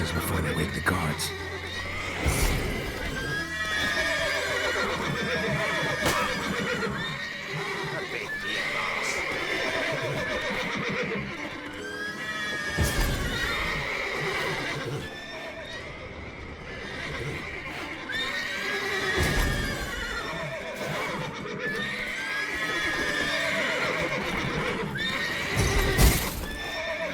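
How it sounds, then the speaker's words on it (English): Horses in a stable in The Witcher 3 video game neigh and whinny repeatedly with hoof clops, loud and close, layered over game ambience and a voice speaking at times. "Gotta calm all the horses before they wake the guards."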